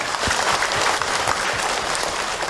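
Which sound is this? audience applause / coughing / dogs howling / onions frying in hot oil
audience applause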